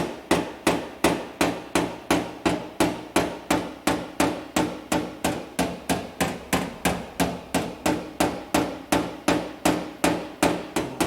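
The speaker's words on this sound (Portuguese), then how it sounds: "eu consigo com pequenas batidinhas trazer o amassado" Small rubber mallet tapping out a dent in a steady, even rhythm of crisp, closely spaced knocks, about three per second, heard alone.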